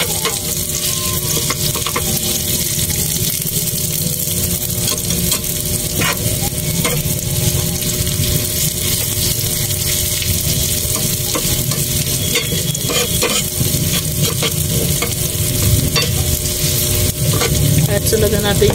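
Onion fries in a pan and is stirred continuously, a loud, dense sizzle running unbroken throughout with frequent scraping and clacking of the utensil against the pan, no talking.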